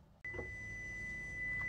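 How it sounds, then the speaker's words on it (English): Electronic beeping in a home kitchen during cupcake baking: a sharp onset, then a steady high-pitched tone that holds and swells slightly near the end, with no voices. "Why is all this beeping stuff happening?"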